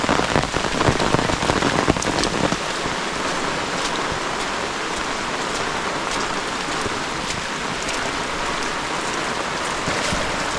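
Steady rain falls in a Konkan village, a dense even hiss of drops on surfaces that stays loud throughout, with a slightly heavier patter in the first couple of seconds and no voices.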